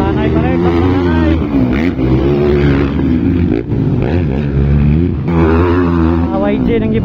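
Motocross motorcycles race at a family cup competition in Laguindingan, engines roaring and revving steadily throughout under continuous excited commentary.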